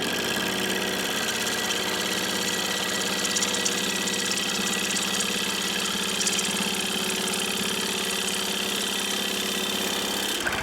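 A wood lathe roughs out a bowl blank that is still out of round. The tool rumbles and whirs continuously and loudly with a steady knocking vibration, and no talk is heard.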